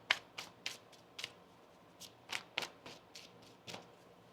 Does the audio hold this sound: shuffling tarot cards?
yes